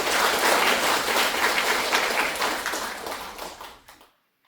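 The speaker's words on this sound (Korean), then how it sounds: "우리 하나님께 영광의 박수를 한 번 더 올려드립니다" A church congregation applauds after a hymn of praise. Full, dense clapping swells at the start, gradually tapers, then cuts off into silence.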